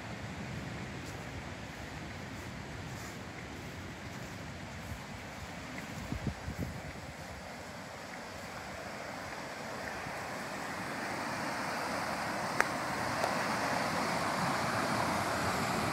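An outdoor river flowing along a pilgrimage trail, a steady broad rush of water mixed with wind buffeting the microphone, continuous and fairly loud throughout, with only a couple of faint knocks.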